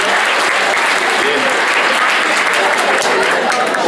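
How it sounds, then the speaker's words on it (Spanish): Audience applause fills a philosophy colloquium, a dense, loud and steady wash of clapping that holds for the whole stretch without a break. "Aplausos."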